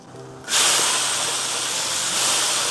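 Sichuan peppercorns and dried chilies hit hot oil in a wok with a sudden loud hiss that starts about half a second in, then holds as a steady, close, broadband sizzle to the end.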